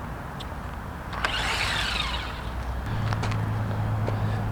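A Haiboxing 12815 Protector all-wheel drive RC buggy is driven at full throttle, its faint electric motor whine rising and falling over steady outdoor background noise, with a brief swelling whoosh in the middle.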